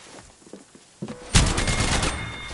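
Video game gunfire: a few quiet clicks and thuds, then a sudden loud burst of rapid shots that rings on and fades into a noisy tail, close and harsh.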